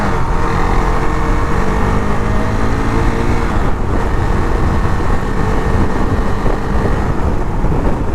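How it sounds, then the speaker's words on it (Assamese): A KTM RC 390 motorcycle speeds up along an open road between Sivasagar and Demow, its engine a steady, loud drone mixed with heavy wind rush for the whole stretch, with no talking. "মানে অকণমান এতিয়া স্পীড উঠাই যাওঁ বাইকখন।"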